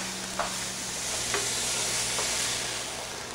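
Italian sausage meat browning in a hot pan for bolognese sauce, a loud, steady close sizzle with a few faint scrapes of stirring and no talk.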